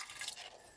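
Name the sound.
distilled water being added to a container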